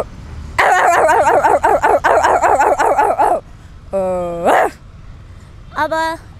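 A voice imitates a bulldog, giving a rapid run of about eight gruff barks, then a drawn-out rising whine and a short final yelp, loud and close.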